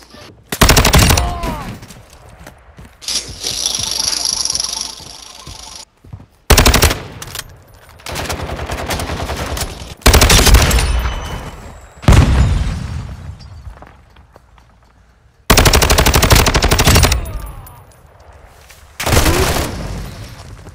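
Automatic gunfire from Call of Duty: Modern Warfare II comes in several loud, close bursts of rapid shots and blasts, separated by short pauses.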